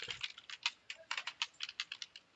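Java code is typed on a computer keyboard in a quick, uneven run of close, crisp key clicks with no talking.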